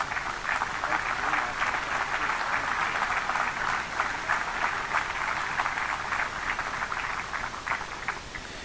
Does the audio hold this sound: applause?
yes